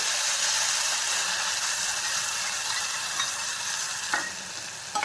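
Soaked chana dal hits hot oil with garlic, producing a loud, dense, hissing sizzle that slowly eases, with a brief scrape of stirring near the end.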